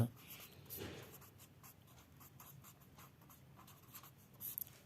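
A formula is written by hand with pen or chalk, heard as soft, close scratching strokes in irregular bursts with quiet gaps between them and no speech.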